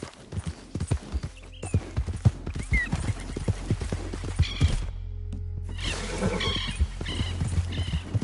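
Hooves of a horse in Red Dead Redemption 2 clop in a fast, steady galloping rhythm, close and fairly loud, with a neigh heard partway through and some outdoor ambience around them.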